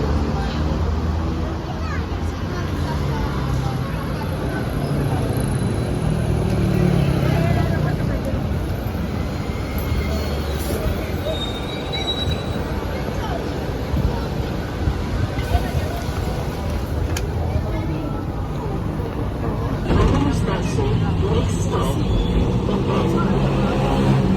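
City bus number 5 pulls up in Athens street traffic, its low engine rumble and the steady traffic noise filling the scene while someone talks over it.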